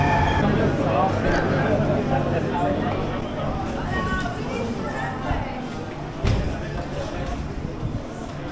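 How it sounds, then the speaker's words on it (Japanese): Passengers on a Spanish train fill the carriage with loud, continuous overlapping chatter and babble, a dense crowd of voices that stays steady throughout, with a brief knock near the end. "みんなワイワイガヤガヤ"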